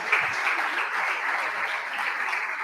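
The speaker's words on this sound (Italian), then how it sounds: "Un applauso per Renato." A steady burst of audience clapping for Renato as he reaches the stage at a Sardinian sports awards ceremony, dense and even throughout, with no voices over it.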